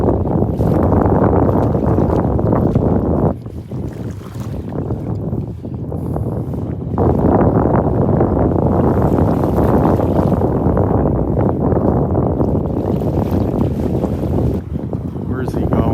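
A boat motors past on the water off a beach on a morning walk, its steady engine rumble mixed with heavy wind buffeting the microphone, with a brief dip in the middle before the noise swells again.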